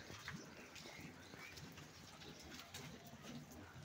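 Pigeon-like cooing from a bird in a zoo enclosure, soft and repeated over a steady hum of ambient background noise, with no clear voices.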